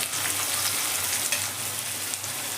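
Chopped onion fries in hot oil, making a dense, even sizzle close up with faint popping and crackle. The sound runs steadily without pause, and nobody speaks.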